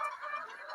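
Laying hens cluck in short overlapping bursts as they are handled and moved into chicken transport crates, close and fairly loud with no talk.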